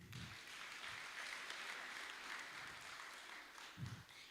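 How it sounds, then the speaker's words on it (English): A parents meeting audience applauds, sustained dense clapping from a crowd lasting several seconds at moderate distance, with a few low thuds mixed in. "clap for us again."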